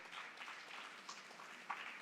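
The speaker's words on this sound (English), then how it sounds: "they deserve a round of applause for the work that they put in" Applause from an audience at a press conference, a fairly quiet, steady patter of clapping sustained for about two seconds with a couple of slightly louder claps near the end.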